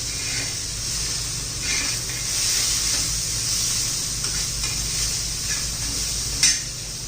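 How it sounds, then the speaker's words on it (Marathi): Chopped coriander sautéing in a pan for roasted aubergine bharit, a soft steady hiss and sizzle of frying with occasional light stirring scrapes and a brief clink near the end, no talking. "कोथिंबीर घातल्यावर पण एखादा मिनिटभर आपण परतून घेणार आहोत"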